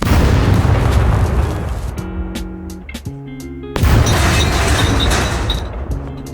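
A loud, rumbling hand grenade blast in the game SCUM, then a brief lull with a few pops before another heavy roaring burst fills the scene.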